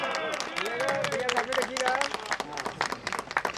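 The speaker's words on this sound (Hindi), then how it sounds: "के लिए जोरदार तालियां" Audience at a school musical night breaks into applause, a dense patter of clapping that rises and swells over about three and a half seconds while a voice speaks over it.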